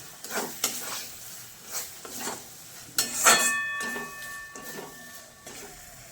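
Chana masala spice stirred and fried in a pan for chole, with repeated scraping, clattering stirs and a soft sizzle underneath, close and moderately loud, with one brighter metallic clink midway.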